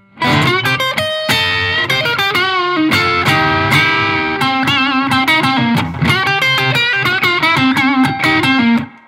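An overdriven electric guitar plays a blues lick with high dynamics, loud and punchy, with quick picked notes, bends and chord stabs in a steady flowing phrase.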